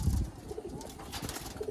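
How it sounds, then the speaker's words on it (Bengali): A pigeon in a loft gives a few soft, low coos, quiet and close, with a fuller burst at the start and gentler murmurs after. "দেখছেন খুব সুন্দর পায়রা।"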